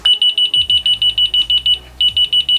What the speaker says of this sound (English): once we press the button, it actually makes a really loud beeping noise